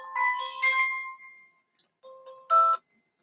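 Telephone ringtone in a ham radio station setup: two bursts of bright electronic melody, the first longer and warbling, a brief pause, then a shorter pair of tones ending sharply. Close and clear, with no talking over it.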